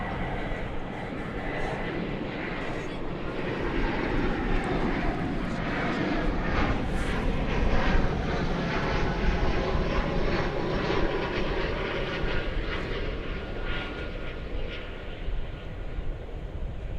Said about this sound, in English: Flight 1351 coming in from McAllen, Texas, in Airbus A319.